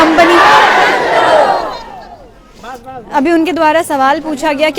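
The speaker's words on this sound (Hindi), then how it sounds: "पूरा जो 5 गांव के यहाँ वासी दिख रहे हैं, वो आपको एक साथ चिल्ला करके बोले नहीं" A large crowd of villagers from five villages in Barkagaon, protesting land acquisition by the Adani company, roar together, first a sustained loud collective shout, then a pause and a second chorus of rhythmic voices shouting in unison.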